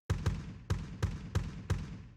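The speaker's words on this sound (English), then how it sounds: "what I've loaded up is this room kick sample" A room kick drum sample loaded in Slate Trigger hits six times in an uneven rhythm, each thump booming and decaying with roomy ambience.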